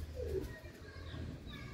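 A racing pigeon gives a soft, low coo, faint and brief against quiet background noise.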